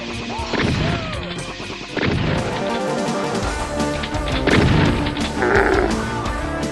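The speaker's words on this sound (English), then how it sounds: "I see you're shooting zombie soldiers again." Gunfire from the first-person shooter Doom as zombie soldiers are shot, with several loud crashing blasts at irregular intervals over continuous game noise and effects, with no talking.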